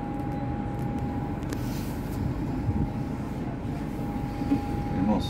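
A commuter train stands at a station in Rome, a continuous rumbling rolling drone with a steady tonal whine and faint clatter, heard fairly close with no talk over it.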